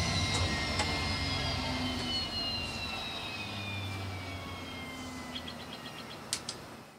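Turboprop engine of a Milviz DHC-3 Turbo Otter winding down in a flight simulator, a steady loud whine with high tones slowly falling in pitch, followed by a few sharp clicks near the end.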